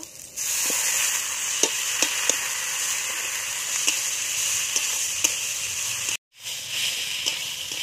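Rice tipped into a pan of masala fried down with turmeric and chilli powder and stirred, giving a steady close sizzle with scattered scraping clicks and a brief break near the end.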